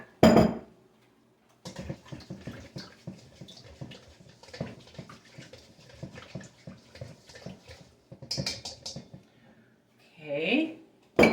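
Hot sauce for wings being mixed in a bowl, with a rapid run of close clinking and scraping strokes from a utensil against the bowl, framed by louder clanks at the start and end.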